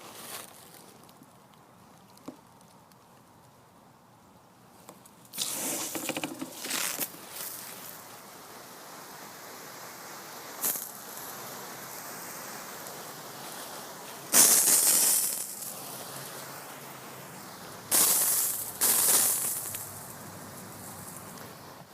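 A homemade lawn sprinkler fed by a garden hose sprays water, starting after a quiet stretch as bursts of hissing spray that rise and fall while it rotates, with louder gushes late on.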